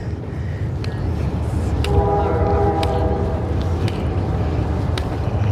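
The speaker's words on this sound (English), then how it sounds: "It sounded like a train." Near a Brooklyn park in New York City, a train rumbles past with a steady low roar that swells mid-way, with a brief tonal whine and occasional clanks over the outdoor street ambience.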